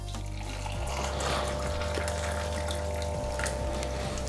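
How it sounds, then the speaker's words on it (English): Hot water pours from a kettle in a steady, close gurgling stream, with the pitch shifting slightly as it flows, heard alone without any voices. "Then get the water from the kettle."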